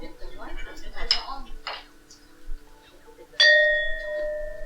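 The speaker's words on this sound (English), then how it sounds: "she asked Paula to hit the gong" A gong is struck once during a spiritual gong session, giving a sudden bright metallic strike that rings on in sustained, slowly fading tones after some faint voices and clinks.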